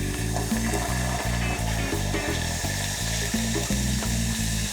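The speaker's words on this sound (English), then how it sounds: "I'm going to add my pear juice, and it's gonna splatter just a little bit" Pear juice poured into hot liquefied caramel hisses and splatters, a loud, dense sizzling and bubbling close by with a pulsing low rumble underneath.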